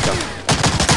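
Weapon fire in the World War II shooter Medal of Honor: Allied Assault, two loud close gunshot blasts within a second, the second followed by a dense burst of rapid reports.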